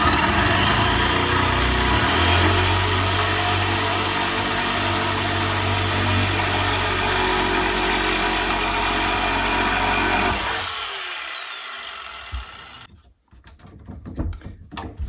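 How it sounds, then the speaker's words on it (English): A power saw cutting through wooden wall studs inside a cabin, a loud sustained whine with a low motor drone that winds down after about ten seconds, followed by scattered clunks and knocks. "So now what I'm going to do is cut the studs that are here"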